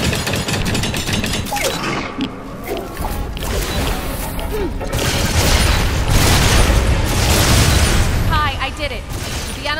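Gunfire and explosions in ReCore as overheating energy cells are shot and destroyed, a busy stream of rapid shots, booms and crashes, with voices speaking during the fight.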